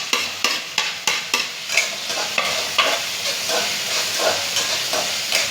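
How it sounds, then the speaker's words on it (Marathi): Capsicum and tomato frying in a pan for pasta, with a steady sizzle and a regular rhythm of spoon strokes scraping and stirring the vegetables close by. "छानसं फ्राय होऊ द्यायचं आहे."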